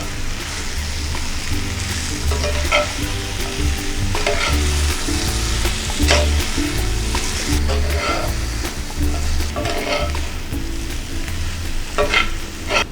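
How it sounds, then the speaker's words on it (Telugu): Chicken for masala chicken fry (chicken vepudu) sizzles steadily in a pan while being stirred, with a loud continuous hiss broken by scraping strokes of the spoon throughout. "ఇప్పుడు దీన్ని మనం చికెన్లో వేసుకొని కలుపుకోవాలి"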